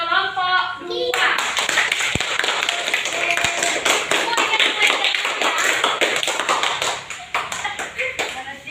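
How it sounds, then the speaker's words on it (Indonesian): Applause breaks out in a classroom for two student groups, with dense, steady clapping close by and mixed with voices talking. "Kita kasih aplaus kepada kelompok 1 dan kelompok 2"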